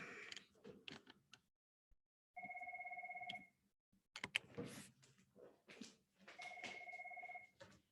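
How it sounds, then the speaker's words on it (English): A phone rings in two steady tonal bursts, the first alone after a short pause and the second partly under rustling and handling noise, heard faintly at moderate distance. "my phone is ringing, so I'm going to pause just a sec"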